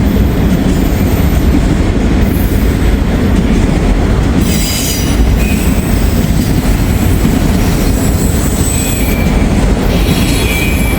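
A Union Pacific train rolls past on the railroad track in Dayton, Ohio, a loud, continuous roar of wheels on rail with squealing and clattering that holds steady throughout, close by and with no voices.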